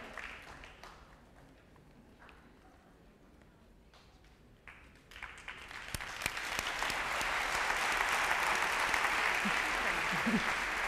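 Audience applause at the Women of the Year 2014 awards event, starting sparse with a few scattered claps, then swelling after a few seconds into loud, sustained clapping from a large crowd.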